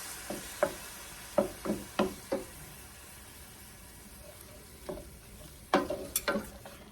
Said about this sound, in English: Now we're gonna dump in our tomato salad. And just stir this around.